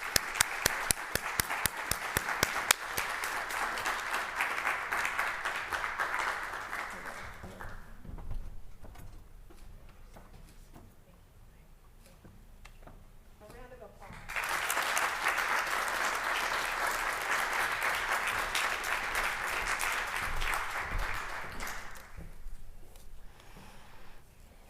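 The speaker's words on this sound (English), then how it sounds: "A round of applause for Dr. Law." An audience at a university lecture hall breaks into two sustained rounds of applause, separated by a quieter lull, the dense clapping fairly loud and close.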